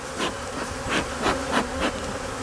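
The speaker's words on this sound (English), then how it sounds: "There's another one getting after me." Agitated honey bees buzz close around a beekeeper, a dense droning hum that swells in several brief louder passes as individual bees zip near.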